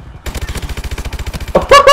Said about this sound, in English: if you can like tap fire like I did there, and it only took two bursts